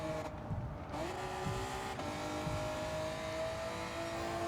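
Honda NSX Type R race car in Gran Turismo 7 on Tokyo Expressway, its engine droning steadily at high revs with shifting pitch and faint tire scrub as it slides through corners, fairly quiet.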